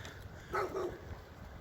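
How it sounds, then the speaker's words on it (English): A dog barks twice in quick succession at a distance, faint beneath steady outdoor background noise near a polling place. "Lord, another damn dog, y'all."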